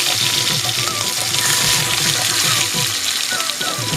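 Marinated fish frying in hot oil in an Assamese kitchen wok, a dense steady sizzle with crackling and bubbling that stays loud and even throughout, with no talking.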